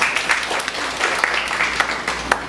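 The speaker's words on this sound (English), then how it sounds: "Let's give him a clap of praise." Audience applause at a church service, a steady wash of clapping with a few sharper claps standing out, filling the moment alone at moderate loudness.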